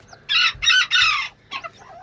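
Newly hatched Serama chicks cheep loudly up close, three long shrill peeps in a row followed by a couple of shorter, softer ones.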